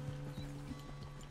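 Horse hooves clip-clop in a steady rhythm in the Red Dead Redemption II video game, a moderately loud, even gait over a constant low background hum.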